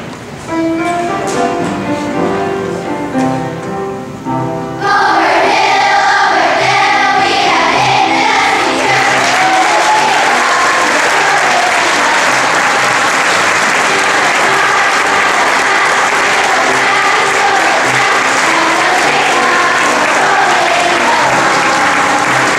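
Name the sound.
audience applauding and cheering veterans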